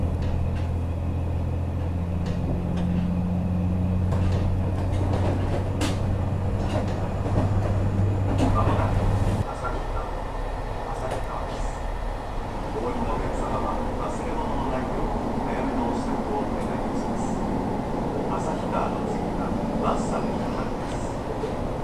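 A long-distance limited express train from Sapporo to Wakkanai rumbles steadily from inside the carriage, a continuous low hum and rolling noise with a tonal drone that drops out partway.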